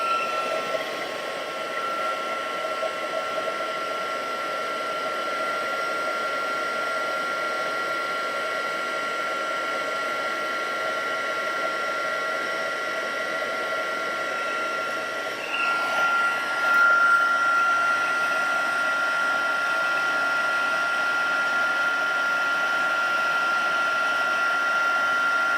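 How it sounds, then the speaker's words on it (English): A craft heat tool set to its second setting blows with a steady, loud, even whir and airy hiss, running continuously throughout with a slight shift in tone partway through. "I'm just going to bring in my heat tool. And I'm going to put it on setting 2."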